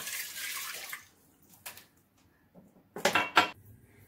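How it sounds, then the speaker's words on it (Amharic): Water from a glass is poured into a pot of washed rice in a home kitchen, with a short splashing pour followed by quieter gaps, a few clinks and a second brief burst of splashing. "ከዛ አንድ ብርጭቆ ውሃ ጨምራለሁ እዚህ ውስጥ ማለት ነው ድስቱ ውስጥ"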